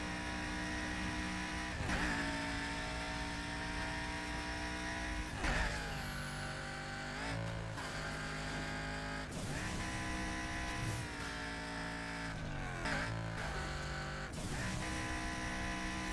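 A car engine in Burnout Paradise drones steadily at high revs, its tone shifting up and down with gear changes and throttle for about sixteen seconds, loud and continuous.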